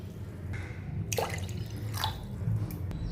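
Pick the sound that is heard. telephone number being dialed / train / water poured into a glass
water poured into a glass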